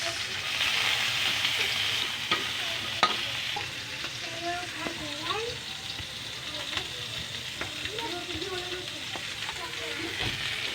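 Garlic frying in oil for Bicol express, a steady broad sizzle with occasional stirring scrapes and clinks, fairly close and continuous, faint voice traces in the background.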